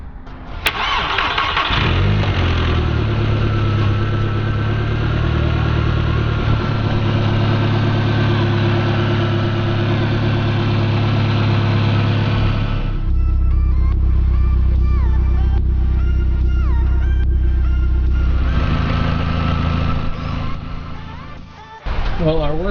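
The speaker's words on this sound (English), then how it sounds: "The car started without a problem." A Volkswagen MK4 GTI with a relocated battery cranks and starts, then settles into a steady, close mid-pitched idle that shifts tone partway through, briefly drops off near the end and comes back.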